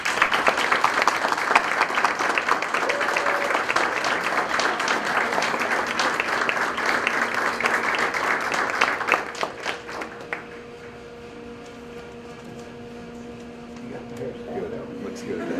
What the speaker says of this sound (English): I'd like you to join me in a round of applause for CTE Hall of Fame inductee John Johnson.